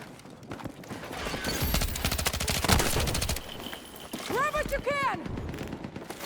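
Rapid short bursts of SGX SMG gunfire in the video game Battlefield 6, a dense rattling fusillade followed by further shots, with a player talking over the action.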